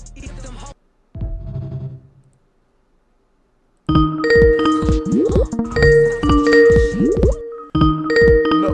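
A phone line rings or chimes in repeated tonal bursts after a brief stretch of talk and silence, loud and close, with a short gap near the end before it resumes.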